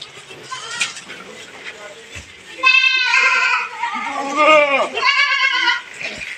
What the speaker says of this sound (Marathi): शेळ्यांना दूध आले आणि ते म्हणतात आमच्या पिल्लांना पाजायला सोडा म्हणून ओरडत आहे